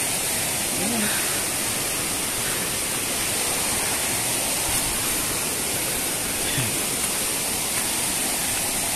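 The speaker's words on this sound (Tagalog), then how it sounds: "yan po yung binabagsakan ng tubig ng falls" Bambi Falls in Negros Occidental pours down steadily into its plunge pool, a dense, even roar of falling water filling the whole span without a break.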